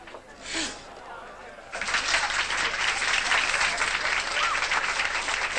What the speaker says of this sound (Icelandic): valið vinstandi keppandinn, Daniel Ólafsson, gefum honum gott klapp